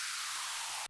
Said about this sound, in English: I have a small downlifter here.